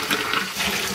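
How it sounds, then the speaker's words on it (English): Running water rinses out a container of water-based polyurethane paint, a loud continuous splashing gush filling the whole moment with no talking. "now we just wash him out in water"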